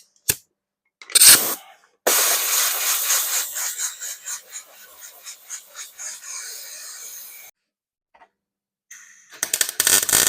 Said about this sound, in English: we've got the airline. Just give that a little cool down.